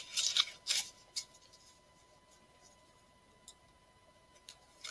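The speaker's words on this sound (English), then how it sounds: "So I'm going to shuffle the cards" Quick crisp riffles of cards being shuffled, a couple of bursts up front followed by softer scattered flicks in a quiet room.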